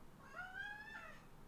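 A pet cat named Spooky meows once indoors, a drawn-out, wavering call that rises and falls over about a second, moderately close and alone over quiet room noise.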